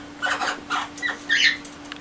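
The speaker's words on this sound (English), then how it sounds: "You hear my parrot in the background, I'm sorry about that." Pet parrot squawking in the background, several short harsh calls in bursts, moderately loud and alone, no talk over them.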